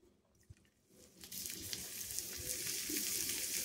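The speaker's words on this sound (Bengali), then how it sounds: "তো এতে দিয়ে দেবো সামান্য পরিমাণ তেল, দিয়ে আমি ডালটাকে আরেকবার ভালো করে ভেজে নেব।" Mung dal hits a little hot oil. After a quiet moment and a small knock, a bright sizzle rises and then holds steady and close.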